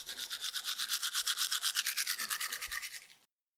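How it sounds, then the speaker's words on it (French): A toothbrush scrubbing teeth in quick, steady back-and-forth strokes, a bristly rhythmic swish heard up close and alone for about three seconds before stopping. "se brosser les dents"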